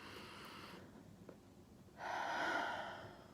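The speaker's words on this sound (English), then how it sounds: "Breathe in." A deep breath drawn in during a relaxation exercise for singing, a soft breathy airflow that fades out and then returns as a longer, louder inhale, close to the microphone with no talk.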